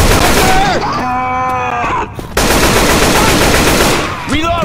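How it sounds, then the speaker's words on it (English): Dense automatic gunfire from the co-op zombie shooter Left 4 Dead 2 rattles loudly and continuously, mixed with in-game voices and tonal game effects. "Y'all gotta stop shooting me!"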